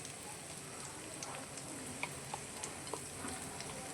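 Masala paste for Kadapa fish curry fries in oil in a pan, a soft continuous sizzle dotted with faint pops and ticks, heard close and alone.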